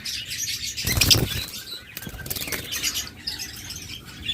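Pet birds, lovebirds, cockatiels and budgerigars, flap their wings in a sudden close burst and chirp repeatedly in a busy, high twittering that carries on throughout.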